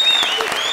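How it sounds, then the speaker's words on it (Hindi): A comedy show audience gives a brief burst of applause over a sustained tone, close and fairly loud. "यो यो पूरन सिंह तालियां।"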